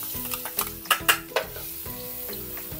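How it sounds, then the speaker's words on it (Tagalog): Five cloves of garlic sauté in a pan for a mung bean stew, sizzling steadily up close while a spatula scrapes and taps in a quick, uneven rhythm. "Magigisa muna tayo ng bawang. 5 cloves na bawang to."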